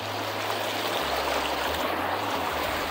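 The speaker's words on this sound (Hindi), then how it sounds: "ये पहाड़ से आने वाला झरना" A mountain waterfall stream used for bathing and washing dishes rushes steadily, a continuous broad wash of flowing water heard close, with a low hum underneath.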